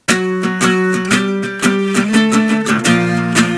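Electric guitar playing the full intro riff of a song, a steady run of picked, sustained chords and notes with rhythmic accents, loud and close, alone without any talk.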